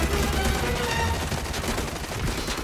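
Dense gunfire and bursts crackle throughout a firefight on a dark dock level in the shooter game Arena Breakout, continuous and loud with overlapping shots and no pauses.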